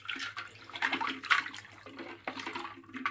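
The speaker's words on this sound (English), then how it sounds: "we're going to use this expensive washing up liquid to clean it up with some warm soapy water" SNES controllers being scrubbed in a basin of warm soapy water give off close splashes and sloshing in irregular bursts, with no talk over them.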